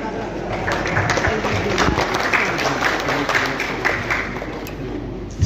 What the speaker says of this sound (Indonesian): Sekali lagi kita berikan tepukan tangan yang meriah untuk laporan Ketua Panitia